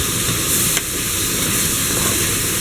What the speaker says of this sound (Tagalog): Tapos sinasama ko talaga sa gisa yung carrots at saka yung potato